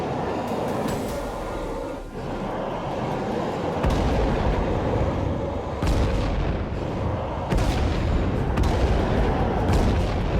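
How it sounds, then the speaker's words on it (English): Repeated heavy airstrike explosions in the zombie survival game State of Decay 2, a dense rumbling barrage of booms that swells and surges loudly throughout with fresh blasts landing every couple of seconds. "Starting with an airstrike."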